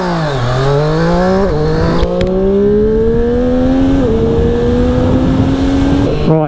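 A 2020 Triumph Street Triple RS motorcycle accelerates hard on a track. The engine note climbs loud and close through several gear changes, with a brief drop in pitch at each shift.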